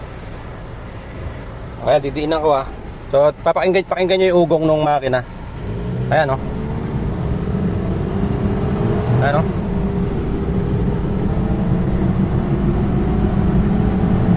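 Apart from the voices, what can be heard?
car engine revving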